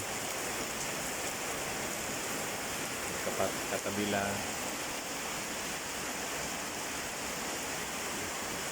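Heavy rain pours in a steady, loud hiss throughout, with flooding nearby and water reaching a seating area; a voice speaks briefly in the middle over the downpour.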